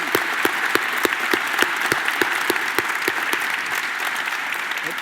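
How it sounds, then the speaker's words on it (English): Audience applause for a healthcare panel at a university leadership and innovation summit, a full room clapping steadily with a few sharper individual claps standing out near the front, continuing throughout. "Let's give our panel applause."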